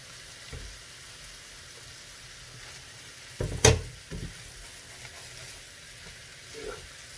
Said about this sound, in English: So if we just add in the rice.